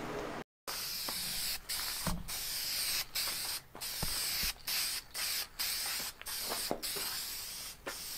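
Aerosol can spraying self-etching primer onto a Yeti's body panel: loud hissing bursts, several long and short passes separated by brief pauses, close by with no talk.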